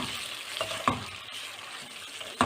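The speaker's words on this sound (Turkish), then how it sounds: "Şöyle salçamızı kavuracağız" Tomato paste fries in hot oil, giving a continuous close sizzle broken by a few sharp spoon taps against the pan.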